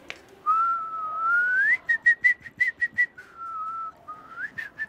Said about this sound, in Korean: 휘파람 부실 줄 아세요?